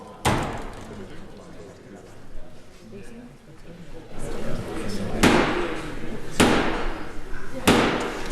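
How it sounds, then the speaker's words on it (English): A door slams shut several times, sharp loud thuds standing out over a busy indoor murmur, with people talking in between. "Close the door."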